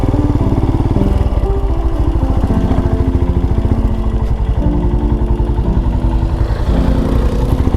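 A Royal Enfield Himalayan motorcycle engine pulls away in first gear on a green lane, a steady, close, throbbing single-cylinder note that runs continuously without speech.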